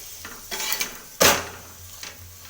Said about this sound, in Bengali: এইভাবে পিটোপিট করে ভেজে নিতে হবে